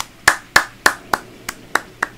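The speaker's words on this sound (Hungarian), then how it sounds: "Hát hogy meg is tapsoltalak." Seven sharp hand claps at a steady, slightly slowing pace, close and crisp against a quiet room with no talk.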